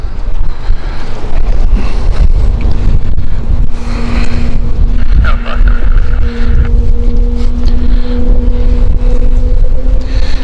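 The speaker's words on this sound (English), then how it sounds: "Love the Pratt & Whitney engines, they make such amazing sounds." Airbus A220 of ITA Airways with Pratt & Whitney engines starting at London City Airport, a loud rumbling spool-up with a rising steady whine, heavy wind buffeting on the microphone and some background voices.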